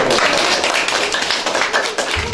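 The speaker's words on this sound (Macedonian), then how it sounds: "Еден аплауз ако може да го" A short burst of applause from a group in a classroom during a practical exam, dense continuous clapping close by, loud and steady for a couple of seconds.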